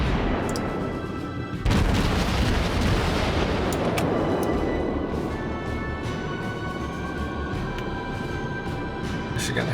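Naval guns boom in the World of Warships video game, a heavy blast near the start followed by a long rumbling roar of battle sound that fills the rest, loud and dense.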